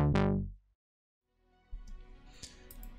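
Synth patch with EQ and an LFO-modulated MG Low 6 filter, in an electronic production: a loud sustained tone that sweeps downward and cuts off, a pause, then a grittier, busier filtered texture with bright bursts.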